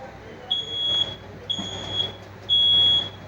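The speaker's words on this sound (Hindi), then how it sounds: "ये अलार्म जो है वो अब भी बज रहा है" A high electronic alarm inside a train coach beeps in three long, steady bursts with short gaps, over a low rumbling background, after a collision with a goods train.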